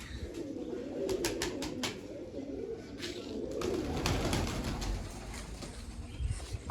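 Pigeons coo steadily in a loft after being given grain and water, with a low, continuous burble of several birds close by and a few sharp clicks or wing sounds.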